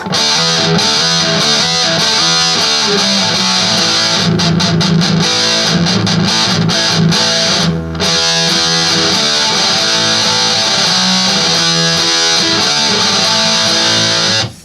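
Sustained electric guitar chords with a smooth, saturated effected tone, ringing continuously and loud, with a few quick strums partway through.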